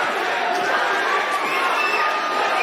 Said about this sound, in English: Have a listen to this crowd.